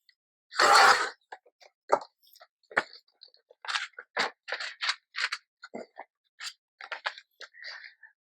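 Scissors snip through junk mail envelope paper in a quick, uneven run of close, crisp cuts, some heavier crunches among lighter snips, with no talking.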